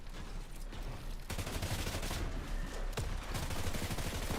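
SMG fire in a Fortnite match comes in rapid bursts with sharp loud cracks, set against a busy background of game noise.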